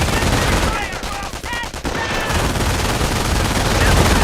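Rapid machine-gun bursts crackle loud and close in the World War II strategy game Company of Heroes. Dense automatic fire runs continuously, and brief voice fragments sit in the middle of the shooting.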